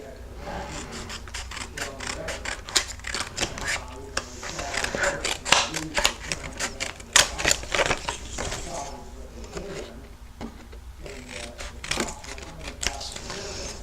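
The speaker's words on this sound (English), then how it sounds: "I'm just going to turn this around, and I'm going to trim this extra paper off." Paper being trimmed off a handmade window card gives a continuous rasping, scraping sound with rapid scratchy strokes, close and fairly loud throughout.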